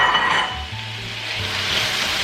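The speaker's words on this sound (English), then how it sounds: "Toss those in the sauce." Brussels sprouts tossed into a thick syrupy sauce in a hot pan give a steady close sizzle and frying hiss with a brief stirring scrape, no talk.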